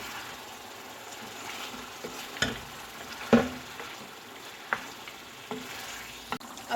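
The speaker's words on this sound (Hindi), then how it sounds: "अब टमाटर को भून लेंगे, ज़्यादा नहीं बस थोड़ा सा ही भूनेंगे।" Tomatoes fry in a pan for a chicken stew, a soft continuous sizzle broken by a few sharp scrapes and clinks as the spoon stirs.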